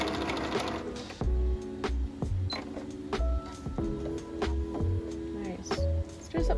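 Bernina B570 QE sewing machine running a long basting stitch, a quick rhythmic mechanical chatter with repeated low thumps and clicks, heard close up while a person talks over it.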